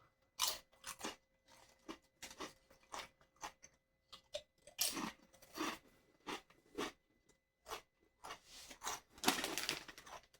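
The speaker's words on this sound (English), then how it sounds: "They're very crunchy." Sabritas Flamin' Hot lime chips, thick kettle-style, crunched in the mouth up close: irregular bursts of sharp, crisp bites and chewing with short quiet gaps between them.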